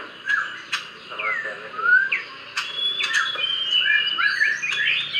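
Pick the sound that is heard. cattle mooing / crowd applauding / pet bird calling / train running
pet bird calling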